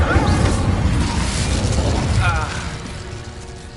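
A fiery blast from the Incendio spell in Hogwarts Legacy bursts loudly amid mechanical clanks and combat noise, then fades as the roar dies down.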